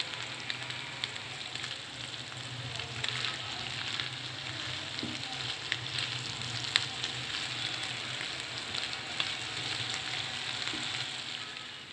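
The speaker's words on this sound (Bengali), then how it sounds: "এখন সবগুলো উপকরণ একসাথে ভেজে নেব, আর একটু ভালোভাবে ভাজবো যেন মাংসটা সুন্দরভাবে সিদ্ধ হয়" Beef fries with spices in a pan, giving a steady, even hiss with scattered light pops and crackles at moderate volume.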